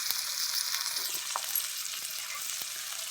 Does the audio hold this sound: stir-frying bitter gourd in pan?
yes